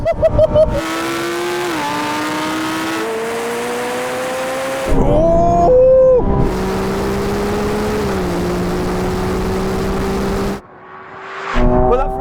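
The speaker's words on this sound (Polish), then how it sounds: "Czy to Ferrari mnie dogoni? Zbliża się." A Ferrari 296 race car, competing against a McLaren 750S, Huracan Performante and 911 Turbo, roars close by with loud sustained engine tones that climb through gear shifts, surge with a pass, then drop off near the end.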